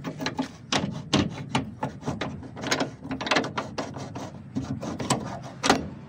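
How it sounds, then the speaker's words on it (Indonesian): A leaf spring bolt being pulled and twisted back out of its mount, giving repeated close scraping, rubbing metallic grinds in short uneven bursts, loud and alone. "kita buka ini baut ini dengan cara menarik sambil putar-putar, tarik ke belakang"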